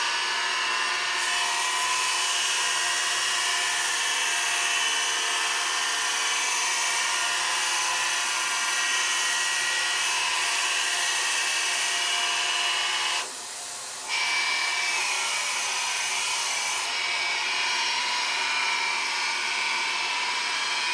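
A wood lathe spins a turned box while a cloth rubs carnauba wax onto it, producing a continuous loud, bright whirring hiss that holds steady for the whole stretch, dropping out briefly near the middle before resuming, close by with no talking.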